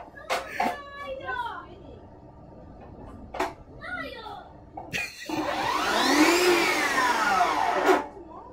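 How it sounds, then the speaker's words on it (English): A Makita 36 volt LXT cordless chop saw spins up with a loud rising whine that holds for a few seconds and then cuts off, following short bursts of voices and clatter. "testing out the new Makita 36 volt LXT chop saw"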